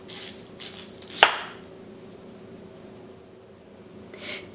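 A knife slices through the end of a yautia root with one sharp, close cut, set against a quiet kitchen backdrop with faint handling noise before and after.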